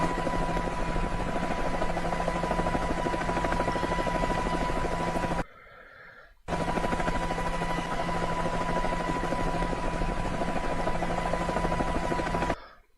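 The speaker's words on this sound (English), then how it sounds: "you normally get more of a Doppler shift effect happening rather than just a regular chopper sound" A helicopter flies overhead with a loud, continuous chopping rotor roar that holds steady, cuts out briefly partway through, then returns at the same level.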